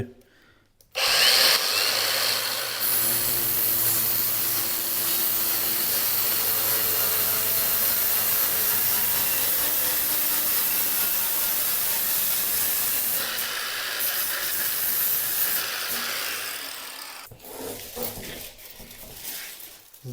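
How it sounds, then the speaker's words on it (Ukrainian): A standard angle grinder with a 125 mm, 1 mm cutting disc slices through PVC plastic ceiling lining panels, whining loudly and steadily for about sixteen seconds before stopping and spinning down. "Вагонку буду різати звичайною болгаркою."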